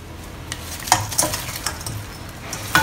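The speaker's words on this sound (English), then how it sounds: "So now we're going to add in the ribs." Pork ribs drop into a sticky coffee sauce in a wok for a Singapore zi char dish, giving a steady sizzle with a few sharp spoon-and-pan clinks and stirring scrapes, close and alone.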